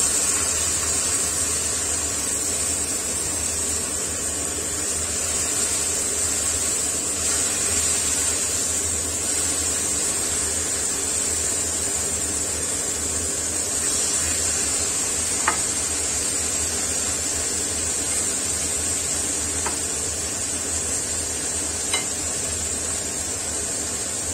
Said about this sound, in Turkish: Kızmış olan tavamızın içerisine etimizi yerleştiriyoruz.